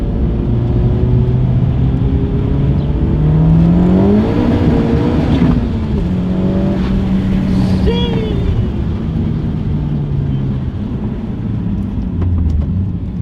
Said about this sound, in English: I'm gonna go ahead and granny shift for the sake of my synchros